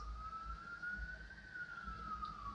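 A single steady siren tone holds across the clip, slowly rising then falling in pitch over low background rumble, moderately loud and unbroken.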